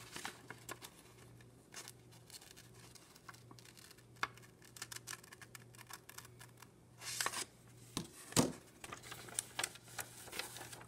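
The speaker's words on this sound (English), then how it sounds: "Put your scissors in there and cut" Faint, intermittent scissor snips and crisp rustling of paper while cutting out a paper pop-up manger, with irregular bursts and a soft hum underneath, close and quiet.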